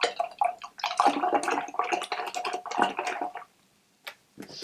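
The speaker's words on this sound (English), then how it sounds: "then rinse your brush" An acrylic paintbrush is swished and rinsed in a pot of water, giving close splashy sloshing for about three seconds, then a pause and a brief final swirl.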